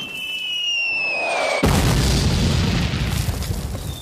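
Deep WW1 artillery bombardment: a sudden heavy boom at about 1.6 s cuts in over a quieter rumbling battlefield, followed by sustained loud low-frequency roar and crackle of explosions.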